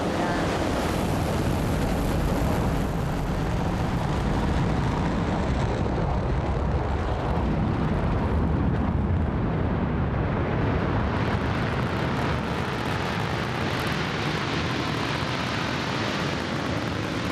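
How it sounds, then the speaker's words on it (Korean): The Korean Nuri rocket's engines give a loud, continuous, broadband roar at liftoff that rumbles steadily without a break, like heavy wind or surf. "누리호가 발사되었습니다."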